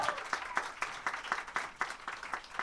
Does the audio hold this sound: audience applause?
yes